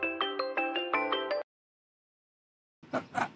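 A phone rings with an incoming call in a steady repeating electronic tone for about a second and a half. It goes silent, then a voice begins speaking.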